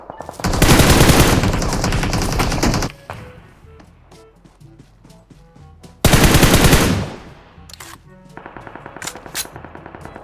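Automatic-weapon fire in PUBG Mobile comes in two long, loud, close bursts with sparse single shots and distant pops scattered between and after them.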